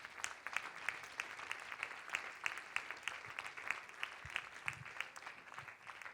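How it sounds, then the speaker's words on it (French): An audience at a francophone conference applauds its sponsors, a steady patter of many clapping hands with sharp individual claps standing out, continuous for several seconds at moderate distance. "On peut applaudir nos commanditaires."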